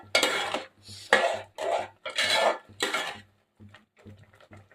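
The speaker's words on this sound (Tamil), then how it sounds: "ஆட் பண்ணிவிட்டு நல்லா மிக்ஸ் பண்ணிக்கோங்க." Beetroot halwa with cashews and raisins being mixed in a pan, heard as a series of close, irregular spoon scrapes and clatters against metal in short bursts separated by brief pauses.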